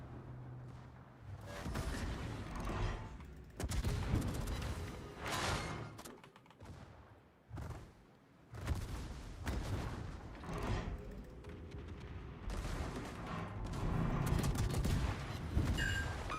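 Naval combat in a warship video game, with an enemy Fubuki destroyer's guns firing as dense rolling salvos and booms that swell and fade across the stretch, loud and continuous with brief lulls.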